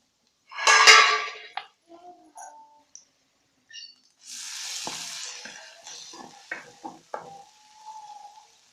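Green coriander chutney heats in a pan with a burst of sizzling as it goes in, followed by intermittent scraping and stirring clinks and softer sizzle.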